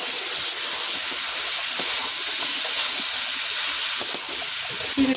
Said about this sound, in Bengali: তেল ছেড়ে গেছে, এবার আমি ওল আর আলু ভাজা আছে ওটা দিয়ে দেবো।